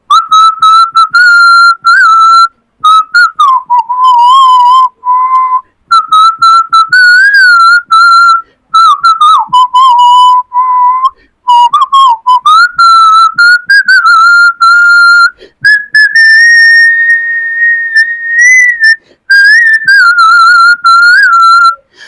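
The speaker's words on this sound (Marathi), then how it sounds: "मी शिट्टीतून गाणं म्हणून दाखवणार" A person whistles a song, a loud, clear melodic whistle close to the ear that runs in phrases with short breaths between them, with no talk.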